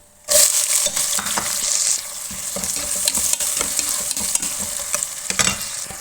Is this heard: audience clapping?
no